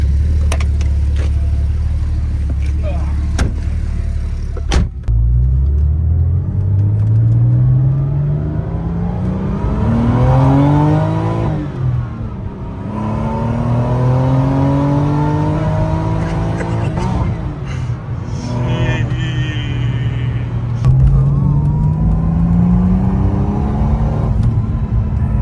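A damaged 1992 Porsche 964 Turbo on a drive accelerates hard through several gears, its engine pitch climbing and dropping with each shift, loud and close from inside the car.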